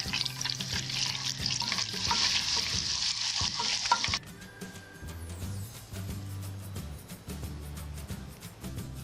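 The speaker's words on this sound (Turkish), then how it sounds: "Naneli sosunu hazırlamak için tereyağını tavaya alıp erittim. Üzerinden nane ekliyorum." Butter and mint leaves sizzle in a hot frying pan, a steady bright crackle that runs loud for about four seconds, then drops to a quieter, uneven sizzle with stirring and low clattering throughout.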